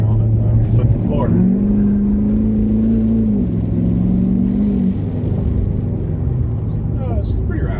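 Unmuffled Ford 6.7 Powerstroke diesel truck exhaust at full throttle, a loud steady rumbling drone that climbs in pitch, holds, then eases back down, with voices talking over it inside the cab.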